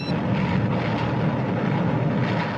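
Airplane engine roaring in a 1964 aviation film, a loud continuous droning rumble that stays steady and close throughout, with no talk over it.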